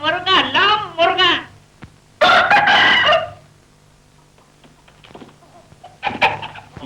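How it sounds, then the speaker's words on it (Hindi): A rooster crows loudly and close in a Pakistani feature film scene, two long cock-a-doodle-doo calls with people talking around them. "ये लो मुर्गा।"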